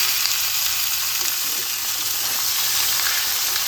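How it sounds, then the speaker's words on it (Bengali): Boiled potatoes fry in a pan with a dense, continuous sizzle, steady and close, with a light scrape of stirring underneath. "আলুটা এর মধ্যে একটু ভাজা ভাজা করে নিতে হবে।"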